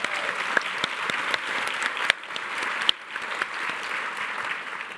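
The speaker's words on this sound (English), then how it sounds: "Can you give them a big round of applause, please?" Audience applause at a women's community event in a school setting, a dense, steady clapping that fills the room and holds for several seconds, with a few sharper individual claps standing out and no voices over it.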